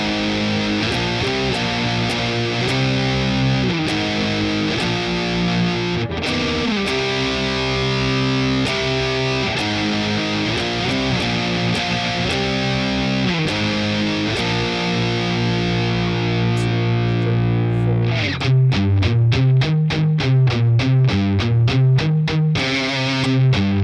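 A distorted electric guitar plays the intro riff of a song, loud and steady with driving chords, then shifts near the end into fast, sharply picked staccato chords.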